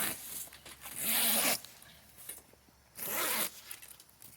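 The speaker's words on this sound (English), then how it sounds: "it'll just zip to this piece" The zipper on the cab enclosure of an Arctic Cat Prowler side-by-side is pulled in two separate long zips, close and fairly quiet, with no talk.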